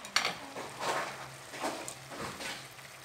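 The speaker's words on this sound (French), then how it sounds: "je l'arrose d'eau bouillante" Boiling water splashes into a hot cooking pan for Moroccan rfissa, setting off close, moderately loud sizzling and hissing that swells in several bursts over a steady faint hum, with no one talking.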